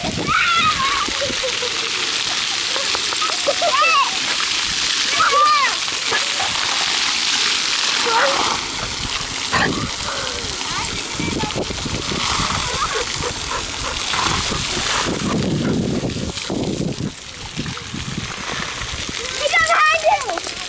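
A pit bull plays in a park water fountain, with steady splashing and spattering water running throughout, close by, while people talk over it.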